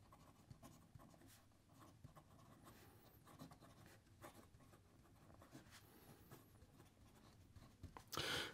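A TWSBI Diamond 580 fountain pen with a stainless steel nib scratches softly across paper in steady, continuous strokes, close and quiet, with a louder rustle right at the end.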